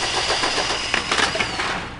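A Honda CRF250L motorcycle with a gutted factory muffler runs in first gear, a close, steady engine drone with a few sharp revving bursts midway, no talking.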